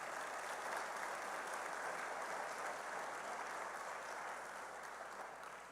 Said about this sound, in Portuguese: Dê um aplauso à palavra do Senhor